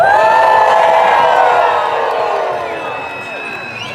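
A large outdoor crowd at a Freedom Convoy rally in Victoria, BC, cheers, whoops and screams loudly and continuously, the roar slowly fading over four seconds.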